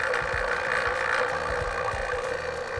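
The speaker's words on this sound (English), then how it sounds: "I better shut it off so I don't suck water into my vacuum pump." A vacuum pump runs steadily at close range, drawing a vacuum on a chamber holding wet sneakers, giving a continuous even hum with a rough low rumble throughout.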